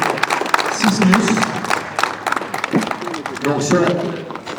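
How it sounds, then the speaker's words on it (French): A crowd watching a gladiator combat reenactment at Fort l'Ecluse applauds the gladiator Sismius with steady, dense clapping mixed with crowd noise and voices throughout. "On applaudit Sismius."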